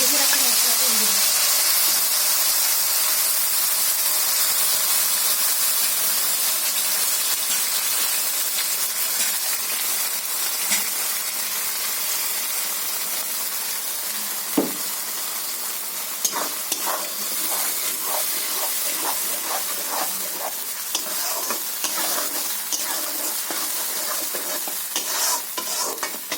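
Spice paste is added to hot oil for a chicken curry and fries with a loud, steady, hissing sizzle. Clicking and scraping stirring strokes join in over the later half.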